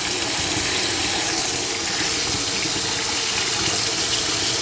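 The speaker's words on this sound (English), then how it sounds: "We're going to fill it up with hot water, not boiling water, as the instructions expressly state" Hot water gushing into the tank of a Bissell Little Green ProHeat carpet cleaner, a loud, steady rushing pour heard close up and unbroken throughout.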